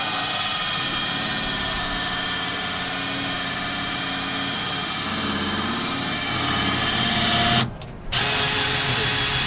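A steady, loud cordless drill powering a motorcycle lift whines continuously at an even pitch, cutting out briefly near the end before starting up again.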